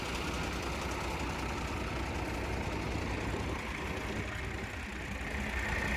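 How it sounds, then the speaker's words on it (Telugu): Five motor pumps draining floodwater near the Amaravati High Court run together in a continuous low engine drone with a rough knocking texture, steady throughout and alone. "మొత్తం 5 మోటార్లు అయితే ఆన్లో ఉన్నాయి"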